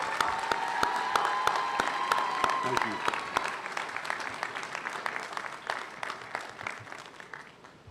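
A graduation crowd gives faculty a round of applause, with thick sustained clapping and some cheering that gradually tapers, while a voice briefly speaks over it.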